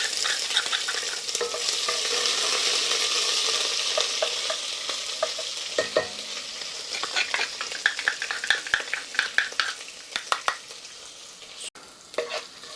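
Ginger and garlic fry in a pan over an outdoor fire for a chicken curry, starting with a steady sizzle. After that comes a run of sharp metallic scrapes and clinks as a spoon stirs the pan.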